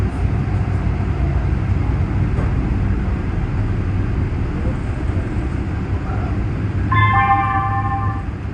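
A light rail train rumbles steadily as it rolls into Expo/Sepulveda Station in Los Angeles, loud and continuous, then a short electronic chime sounds near the end.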